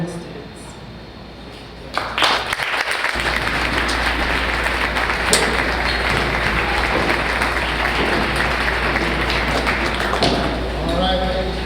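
A pitch day audience breaks into applause after a short lull. A thick wash of many hands clapping starts about two seconds in and carries loud and sustained to the end, with a few sharper claps standing out.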